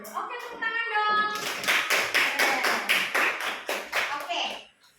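A group of children claps together in a classroom, a burst of quick, close handclaps that starts after a teacher's brief spoken prompt and runs steadily for several seconds before stopping abruptly.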